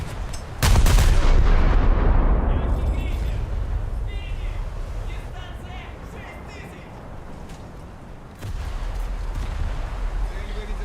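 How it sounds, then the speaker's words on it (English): Heavy naval gunfire booms from a light cruiser Atlanta in a warship video game, a loud blast at the start followed by long rumbling decay and another deep boom later, with voices talking over it. "And another Atlanta detonated"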